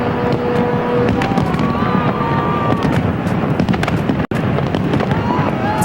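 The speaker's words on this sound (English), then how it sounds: "Lasers and fireworks." Fireworks burst over the River Thames in London at the millennium celebrations, a dense, continuous crackle and rumble of distant explosions with wind and crowd noise, and voices heard faintly through it.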